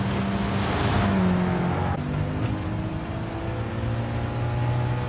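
Subaru WRX STI racing in GT Sport, its engine droning steadily with shifting harmonic tones that dip at a gear change, loud and continuous with no talk.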